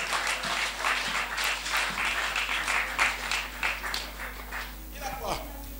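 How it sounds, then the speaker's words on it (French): A church congregation applauds during a service, a broad crowd of clapping with a low steady hum beneath, fading somewhat toward the end. "Applaudissez pour Jésus."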